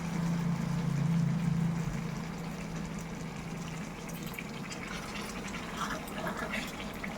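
Water is poured into a pan of potato curry during cooking, a soft, quiet trickle and splash that fades into a faint simmering hiss.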